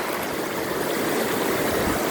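Shallow stream water flowing steadily, a continuous broadband rush and babble held at an even, fairly loud level from start to finish, with no voices.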